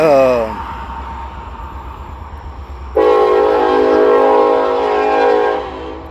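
A train horn gives a short falling blast, then after a pause a long loud horn sounds over the rumble of the train passing an approaching intersection.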